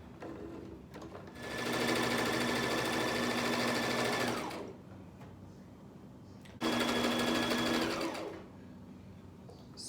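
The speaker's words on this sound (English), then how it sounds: "the sewing machine is on, and we're literally straight stitching it down" A sewing machine straight-stitching a seam runs in two steady, whirring bursts, a longer one of about three seconds and then a shorter one, with quiet pauses around them.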